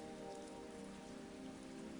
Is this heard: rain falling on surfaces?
yes